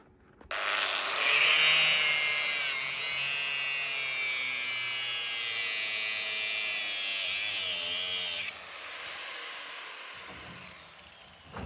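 A power tool cuts through and grinds steel plate on an agricultural axle pivot repair, a loud steady high-pitched whine lasting about eight seconds, then dropping to a quieter spin-down.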